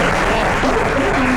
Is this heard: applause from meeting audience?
yes